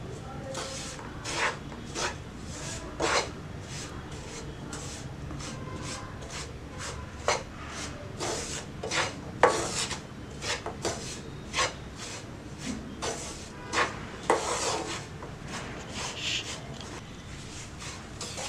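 Ingredients are dry-roasted and stirred in a pan, with repeated scraping and rubbing strokes of a spatula in an uneven rhythm over a low steady background, continuing through the whole stretch.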